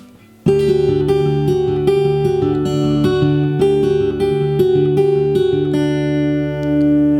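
An acoustic guitar plays an instrumental fill, a steady run of plucked, ringing notes with sustained overtones. It is close, clear and played alone without talk.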